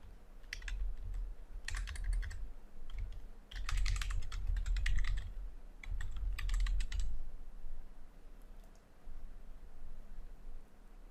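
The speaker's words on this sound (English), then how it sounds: "Now type the document title." Computer keyboard typing in a document editor, heard as bursts of quick, close key clicks separated by short pauses over a low background hum.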